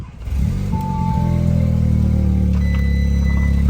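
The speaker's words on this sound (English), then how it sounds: "We're gonna start up the car, see if there's any weird leaks." An Audi or VW engine with a freshly installed MPI kit cranks and catches, then settles into a steady, loud idle hum close by with no talking.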